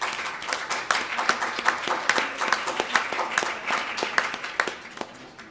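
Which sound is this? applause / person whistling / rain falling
applause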